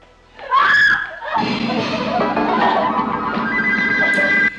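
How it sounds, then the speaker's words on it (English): A woman in a Doctor Who episode lets out a sharp, loud scream that cuts in abruptly, followed by sustained ringing tones and dramatic music filling the rest of the scene. "She screams at a melting clock."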